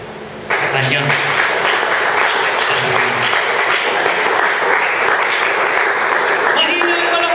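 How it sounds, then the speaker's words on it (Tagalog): A church congregation breaks into loud, sustained applause that starts abruptly after a moment of quiet speech and carries on steadily, with a voice faintly heard beneath the clapping near the start and end. "Mahina yung palakpak."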